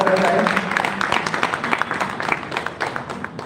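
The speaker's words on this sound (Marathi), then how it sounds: "पुन्हा एकदा आपण जोरदार टाळ्या वाजवून यांचं स्वागत करत आहे" Audience applause greets a guest at a state-level open poetry gathering at a public library in Nashik, a dense wash of clapping hands that starts strong and slowly thins over a few seconds.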